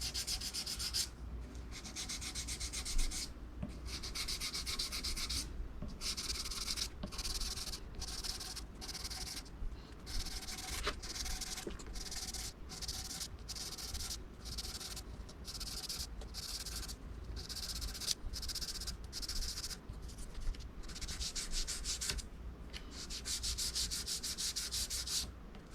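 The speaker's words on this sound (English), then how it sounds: "Now I'm going to take the sandpaper, I'm going to put a notch on it. I'm just going to hit the sides." Sandpaper rubs the sides of a Harley Benton guitar in steady back-and-forth strokes, a soft, close, continuous scratchy hiss with brief rhythmic pauses between passes.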